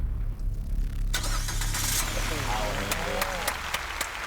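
A car engine cranking and catching after the brake is pressed and the start button pushed, set during a car giveaway game show, the start rising amid crowd applause and talk.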